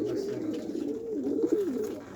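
Pigeons coo in soft, low, rolling warbles, overlapping calls close by, continuous over a faint background hiss.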